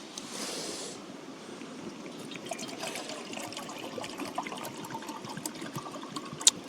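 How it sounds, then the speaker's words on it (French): Water poured into a pot set to heat over an outdoor wood fire, a steady, fairly quiet trickling and splashing that runs throughout, with a few sharp clicks near the end. "Je vais mettre chauffer mon eau pour le cacao café."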